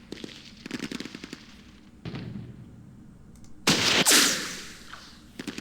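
Machine gun fire from a unit in the Arab-Israeli war game Campaign Series Middle East, short rattling bursts at the start and middle followed by a louder crackling blast, no voices.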